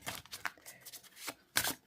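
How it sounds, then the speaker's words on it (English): Quiet, close riffling of a Lenormand oracle card deck being shuffled, a few quick papery flutters and snaps with short gaps between. "let's give this card a shuffle and see how they shuffle"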